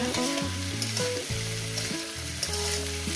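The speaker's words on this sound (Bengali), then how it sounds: "ভালো করে লাল লাল করে ভেজে নেব" Chopped vegetables frying in a pan with turmeric for an egg and vegetable fry, a continuous close sizzle with soft stirring scrapes, and a musical tune playing loudly over it.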